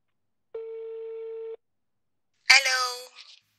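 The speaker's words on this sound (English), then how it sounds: "It's ringing." A single steady electronic telephone ring tone sounds for about a second, followed after a pause by a brief burst of another voice or sound.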